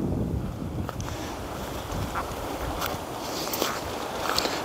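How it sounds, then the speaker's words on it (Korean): Strong gale wind roars steadily on Hwangdo island under a gale warning, a broad continuous rush buffeting the microphone, with faint intermittent knocks and rustles through it and no speech. "바람 여파가 심하네요."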